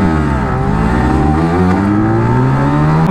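Two sport motorcycles, a 150 cc Yamaha R15 and a Suzuki Hayabusa Gen3, rev loudly and accelerate in a race launch, their engine notes climbing steadily and close, with no one talking.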